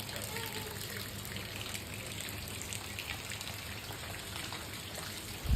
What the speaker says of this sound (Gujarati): વરસાદ ચાલુ છે એમના બાજુની બધા બેઠા.